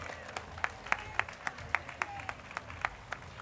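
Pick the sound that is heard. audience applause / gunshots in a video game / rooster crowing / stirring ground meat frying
audience applause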